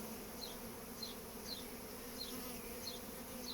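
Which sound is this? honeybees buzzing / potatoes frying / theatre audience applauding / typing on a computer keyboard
honeybees buzzing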